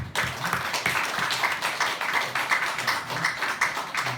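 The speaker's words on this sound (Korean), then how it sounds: "박수 한번 쳐드리겠습니다" Congregation applauding during a Sunday worship service at a church, steady dense clapping throughout, fairly near, with no voices over it.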